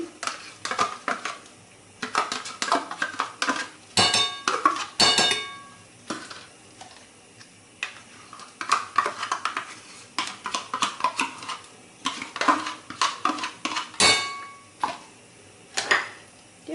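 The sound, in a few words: adding homogenized cheese to whipped cream in a bowl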